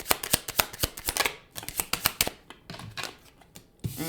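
Tarot cards shuffled by hand in quick, crisp riffling bursts with short pauses between them, close and loud, with no voice.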